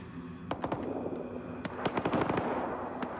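Rapid bursts of automatic gunfire from a weapon in the video game S.T.A.L.K.E.R. 2: Heart of Chornobyl, sharp cracks fired in quick irregular clusters over a low steady background hum, with no talk.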